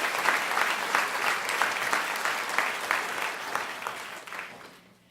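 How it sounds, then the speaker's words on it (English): A graduation ceremony crowd claps in a sustained, lively round of applause that holds steady, then fades out over the last second. "Can we just give Roshni another round of applause for an outstanding job"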